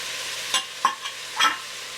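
Chopped onions are stirred in a soup pot for a chicken and vegetable couscous soup, giving a soft sizzle under a few separate scraping stirs, close and fairly quiet, with no talking.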